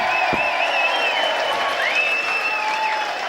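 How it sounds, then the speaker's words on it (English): Theatre audience clapping and cheering at a comedy show, a dense continuous wash of applause with whoops and whistles rising through it. "Now can you clap and cheer a bit louder for me?"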